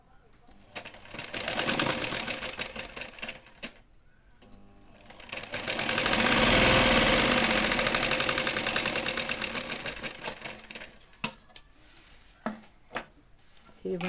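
A sewing machine stitches a designer sleeve with its lining, running in two steady buzzing bursts with a short pause between, then stopping into a few scattered clicks and taps.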